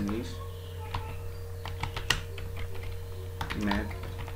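Typing on a computer keyboard while entering text into a table in Microsoft Word 2013: scattered clicky keystrokes, some in quick bursts, close up and fairly soft over a steady background hum, with a voice speaking intermittently.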